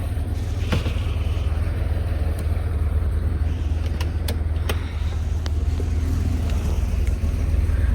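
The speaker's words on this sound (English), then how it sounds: "The motor sounds great." A 1977 Porsche 930 Turbo engine idles with a steady, deep rumble, close and constant throughout, with a few faint clicks and knocks over it.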